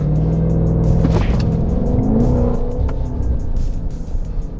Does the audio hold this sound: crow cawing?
no